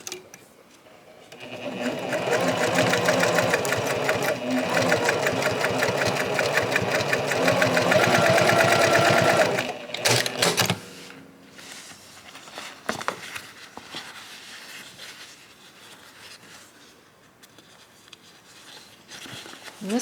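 A sewing machine runs steadily for several seconds as it stitches the seam of a zippered boxy bag, close and loud. It then stops, leaving quieter handling noises and small fabric rustles.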